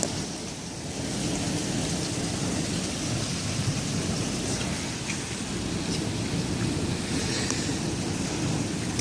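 Heavy thunderstorm with hail and rain pounding down steadily, a dense continuous roar with low rumbling thunder underneath throughout, loud and close.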